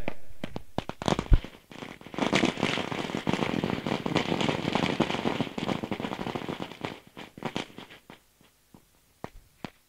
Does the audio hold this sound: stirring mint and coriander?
no